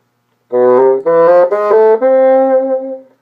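Solo bassoon plays Weissenborn etude 21 pickup notes, each leaned on from a half step below, in four short sustained phrases before a final held tone, clear and close with no talking.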